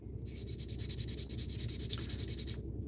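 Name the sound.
sanding with 1000 grit sandpaper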